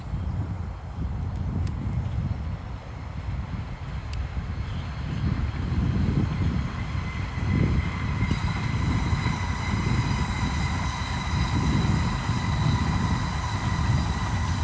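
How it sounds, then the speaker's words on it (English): A heavy low rumble of a train rolling past nearby, steady and sustained, with faint whining tones rising in the background. "Oh, the train's coming."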